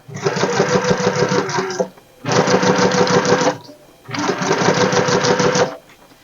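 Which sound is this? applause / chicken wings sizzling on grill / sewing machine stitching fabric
sewing machine stitching fabric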